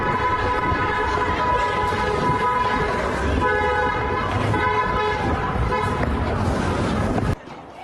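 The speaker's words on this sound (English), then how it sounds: "After the bulk of that gunfire, you hear car horns and people running away trying to get out of the area." Car horns blare almost without a break after gunfire at a Sacramento street shooting, several overlapping tones sounding loud and close, with commotion beneath and an abrupt cutoff near the end.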